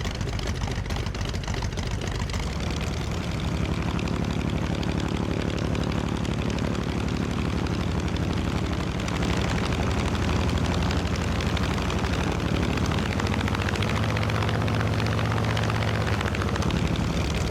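An F6F Hellcat propeller fighter in Microsoft Flight Simulator runs its piston engine steadily at idle from an outside view while parked, a loud continuous droning rumble with a throbbing propeller beat.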